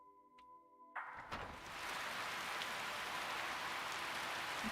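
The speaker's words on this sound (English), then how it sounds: "Does it sound like it's raining to you guys?" Steady rain in the video game Skyrim, beginning suddenly after a soft tonal hum and a click, then settling into a dense, even hiss of falling drops that continues without talk.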